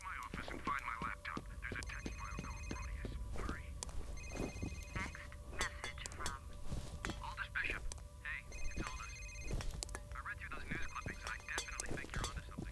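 A phone ringing in the shooter game F.E.A.R., repeated electronic ring bursts every couple of seconds at moderate volume over a murmur of voices and background noise.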